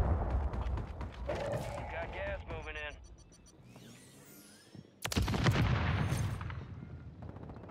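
Shotguns loaded with incendiary rounds blast repeatedly in a frantic four-versus-one firefight in a Rebirth Island battle-royale match. Loud, close bursts of shots cluster at the start and end, with excited talking over the gunfire.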